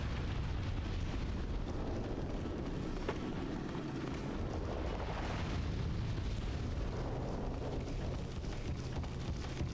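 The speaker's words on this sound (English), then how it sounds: "And these things fucking explode" Enemies blowing up in the PS3 game Demon's Souls, heard as a dense, sustained rumbling roar of explosive noise with a sharp burst near the three-second mark, loud and continuous throughout without speech.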